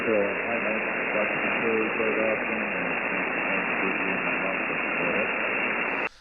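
Weak amateur radio signal on the 10 meter band, buried in steady band-limited static hiss that runs continuously and fairly loud, with faint traces of a voice barely rising above the noise floor before it cuts off at the end.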